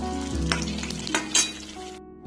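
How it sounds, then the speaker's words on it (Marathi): Thick green chillies fry in hot oil with a loud, close, bubbling sizzle, broken by a few sharp clinks and scrapes of a utensil before the sound abruptly cuts off. "हे बघा, आपले मिरच्या तळून रेडी झालेले आहेत"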